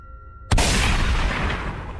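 A single loud sniper rifle shot in the Free Fire battle game, an abrupt sharp crack followed by a long booming rumble that rings on to the end, with a faint steady hum before it.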